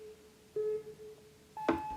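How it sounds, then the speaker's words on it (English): A Minecraft timer clock sounds a few steady electronic beeps, a long tone then a higher one after a short pause, clear and close against a quiet background. "The clock begins to beep."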